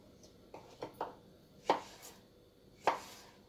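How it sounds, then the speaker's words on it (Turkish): A knife chops zucchini into cubes on a board: six or so sharp, close taps at an uneven pace, the last two loudest, with no voices. "Şöyle uzun uzun kesiyorum. arkadaşlar küp küp doğruyoruz."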